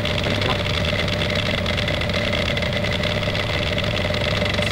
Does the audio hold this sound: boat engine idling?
yes